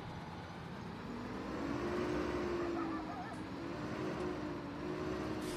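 A Fortschritt ZT 300-C combine harvester in Farming Simulator 19 drones steadily with a low engine hum that swells slightly, heard under a quiet voice.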